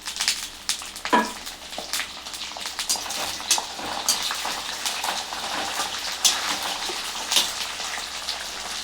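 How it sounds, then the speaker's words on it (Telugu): Green chillies fry in hot oil for Ugadi-style mango pulihora, giving a steady close sizzle scattered with sharp crackles and pops, with no voices. "ఇవి కూడా మంచిగా ఫ్రై కావాలి"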